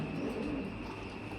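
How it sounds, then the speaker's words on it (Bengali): A pair of pigeons with two young chicks coos softly beneath a steady wash of broadband background noise, the calls close but partly masked, with no speech. "এখানে দেখছেন আর এক পেয়ার কবুতর, আর তা আছে 2টা বাচ্চা সহকারে"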